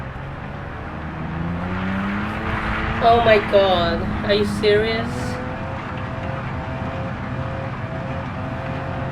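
A car engine runs at a steady idle after cranking, with rising harmonic engine tones under excited talk from people inside the car.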